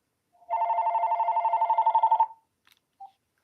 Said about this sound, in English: Let me get this phone call.